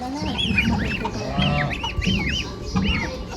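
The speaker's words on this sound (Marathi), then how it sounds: "बघा बदकाची पिल्लं मस्त आहेत यार." Several small birds peep in short rising chirps throughout, close and fairly loud, over a steady low murmur of fowl sounds.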